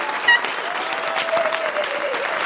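Audience applause fills the space, a steady patter of clapping hands held at an even level throughout with a brief louder burst near the start and no voices over it.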